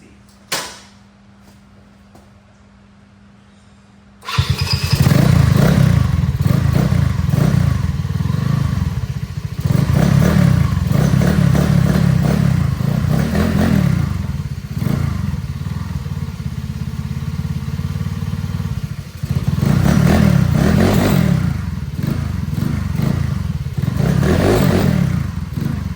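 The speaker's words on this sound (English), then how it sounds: "First up, we'll start up the GY6 since we're right here" A GY6 scooter engine starts after a few quiet seconds and then runs loudly up close, a steady buzzing idle with rattling clatter and brief dips where the revs fall before picking up again.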